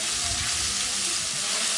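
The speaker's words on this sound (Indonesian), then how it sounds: "Kalau sudah panas, kita mau tumis bumbu sudah tadi kita haluskan." Ground spice paste sautés in hot oil in a wok with a loud, continuous sizzle and crackle, close up and without talk.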